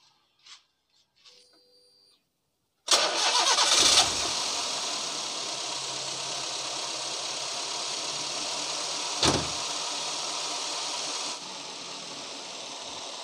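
A few faint clicks, then a Daihatsu Gran Max engine cranks and starts with a roar, settling into a steady idle with a brief blip midway.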